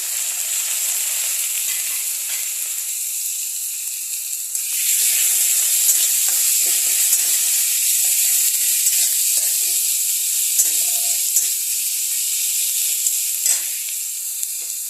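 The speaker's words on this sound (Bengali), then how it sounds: "আমি এখানে সব যা ছিল পেঁয়াজ বাটা, রসুন বাটা আর আদা কুচি, এগুলো সব একসাথে দিয়ে দেবো।" Onion paste, garlic paste and chopped ginger sizzle steadily in a hot pan for chicken stew, a loud continuous frying hiss that swells louder partway through as more goes in, with no voices.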